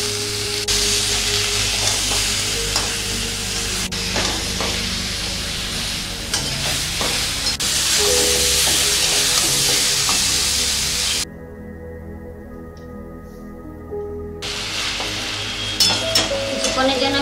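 Spice paste of ginger, green chilli, cumin, turmeric and salt being sautéed down for a koi fish curry in yogurt, with a steady loud sizzle and scraping stirs, briefly dropping to a quieter hiss before clattering stirs resume.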